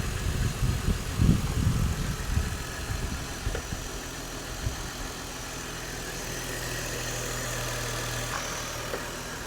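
Lexus IS300 engine running at a steady idle after being started, a low continuous hum with some louder rumbling in the first few seconds before settling into an even drone.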